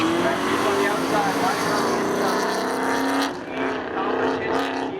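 A 1994 and a 1985 Pontiac Trans Am drag race at a speedway. Loud engine roar climbs and shifts as the cars accelerate, with a commentator talking over the noise throughout.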